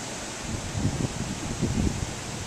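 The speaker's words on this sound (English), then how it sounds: "Because it is very, very incredibly windy." Strong gusting wind from Hurricane Irene roars steadily through trees and a maple outside an open window, with broadband rushing noise and two heavier low buffeting surges about a second apart.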